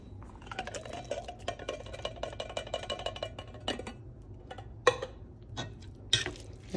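Drained canned pinto beans tip into a soup pot with soft thuds and scattered metallic clinks of can and utensil against the pot, plus a few sharper knocks near the end.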